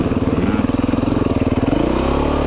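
A Yamaha YZ 65 dirt bike engine buzzes close by in a steady, pulsing rhythm, its pitch dropping and shifting about two seconds in as the rider changes down to first gear.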